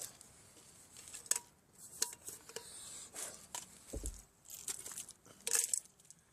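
A camping cook kit's little pot and fry pan being handled, with scattered light metallic clinks, taps and rattles at close range in a quiet setting, no talking.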